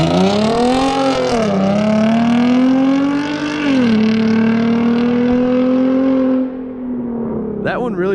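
A Hyundai Genesis Coupe launches in sport mode, its engine revving hard in a loud rising drone with a couple of gear-change dips, then cutting off abruptly near the end before a brief voice.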